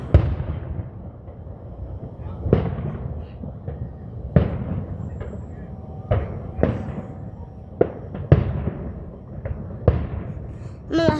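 Fireworks bursting outdoors near a high school, a series of sharp booms and crackles arriving every one to two seconds over a low rumbling background, fairly loud and close.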